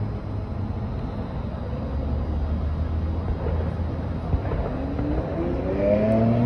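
A car engine rumbles past outdoors, a low steady drone that swells slightly and builds louder toward the end with no voices.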